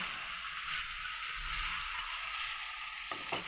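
Potatoes frying in hot oil with turmeric in a pan, a steady close sizzle with faint stirring, no voices.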